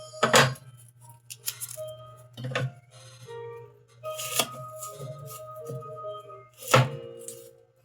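A knife slicing an onion on a board, a series of sharp irregular chops spaced across several seconds over a steady low hum, with faint clinks between cuts.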